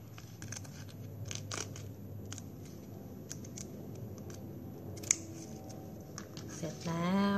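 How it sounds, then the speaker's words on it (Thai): Zigzag scissors cutting a plastic drinking straw for a flower craft, giving a series of sharp, close snips spread across the clip over a quiet background. "แล้วก็ตัดด้วยกรรไกรซิกแซกค่ะ"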